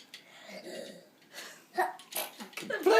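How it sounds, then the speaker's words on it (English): Sneezing builds from soft breathy sniffs and catches into a sharp burst at the end, with quiet voices heard in between. "Did you just have a sneezing fit?"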